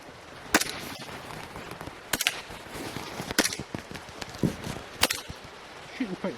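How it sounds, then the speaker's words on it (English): Airsoft sniper rifle firing at targets during outdoor practice, several sharp separate cracks spaced about a second apart, with softer handling noises and faint movement between shots. "Shooting quite rapidly as well."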